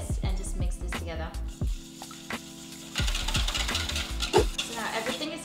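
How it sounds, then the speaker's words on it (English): Eggs being whisked by hand in a mixing bowl for ricotta pancake batter, a quick repetitive stirring clatter with a voice speaking over it. "Grab yourself a whisk and just mix this together."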